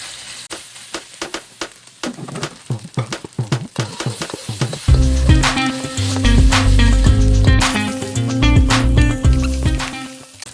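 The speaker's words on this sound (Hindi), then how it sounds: "और चिकन हमने मसाला लगाई हुई थी, इसको फ्राई कर लेते हैं।" Masala-marinated chicken breast drops into hot oil in a pan for Chinese chicken fried rice, first a few scattered taps and spatters, then a loud, continuous sizzle with stirring clatter that stays up close to the end.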